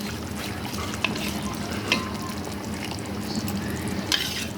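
Rui fish frying in a pan for a bhuna, with a steady close sizzle and a few sharp clinks of a spoon stirring against the pan.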